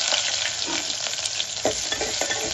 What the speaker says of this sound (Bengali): তেলটা গরম হয়ে গিয়েছে, এখন আমি পেঁয়াজটা দিয়ে দিলাম